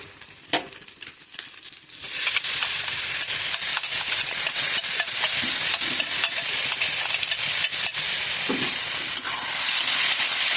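Garlic, onion and green chilli fry in a pan while being stirred constantly; after about two quiet seconds a loud, steady sizzle with frequent scraping strokes takes over and continues to the end.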